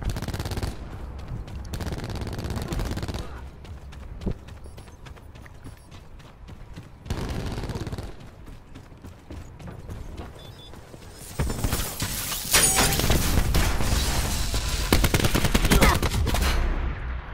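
Gunfire bursts from a weapon in the Call of Duty Black Ops 4 beta, with rapid automatic shots and mechanical clatter in several separate stretches, the loudest and densest near the end.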